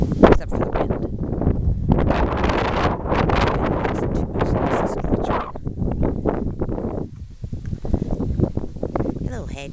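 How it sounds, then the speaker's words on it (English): Wind gusting on an autumn morning, a steady broadband rush buffeting the microphone throughout, with a person talking over it much of the time. "Except for the wind."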